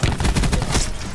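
Rapid heavy gunfire from a sniper helicopter in Call of Duty: Black Ops 4, a loud, dense burst of repeated booming shots filling the whole moment with no talk.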